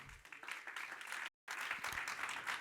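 A church congregation claps for the Lord during a Spanish-language sermon, a dense, steady wash of applause that cuts out briefly midway before resuming just as strongly.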